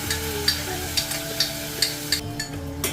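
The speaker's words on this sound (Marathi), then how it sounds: "तर आता आपली खीर टाकून झालेली आहे एक दोन मिनटं तुपामध्ये मस्त भाजून घ्यायची" Cooked kheer roasting in ghee inside a pressure cooker pan with fried dry fruits: a steady close sizzle with regular spoon taps and stirring scrapes about every half second.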